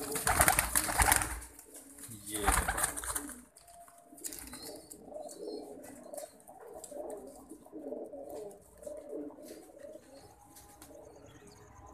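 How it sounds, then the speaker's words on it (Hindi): Pigeons coo softly and repeatedly up close, low burbling calls overlapping, after a burst of fluttering and rustling at the start. "ये बड़े नायाब किस्म के कबूतर"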